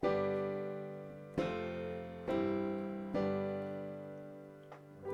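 Keyboard playing a Mixolydian-mode chord progression from a song, five sustained chords struck one after another and left ringing to decay, quiet and alone with no talking.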